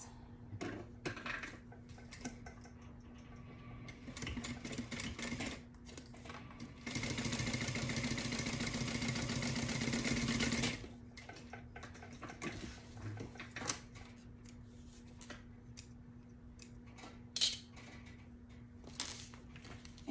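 Sewing machine stitching a tote bag seam at 3/8 inch, a steady buzzing run of about four seconds in the middle, framed by quieter handling clicks and fabric rustles before and after.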